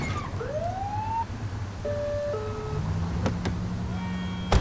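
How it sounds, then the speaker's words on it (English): A police car siren in The Precinct video game sounds in short wailing and tonal bursts over a constant low traffic rumble, fairly prominent and without talking. "Get on their tail and flip the siren"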